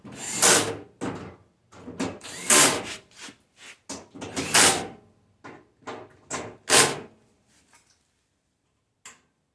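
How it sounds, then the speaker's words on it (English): Screws are driven back into the metal cover of a Dyna-Glo Pro heater, giving a series of short whirring bursts and ticking clicks of varying strength, separated by brief pauses, ending in quiet. "We'll start getting the screws back in."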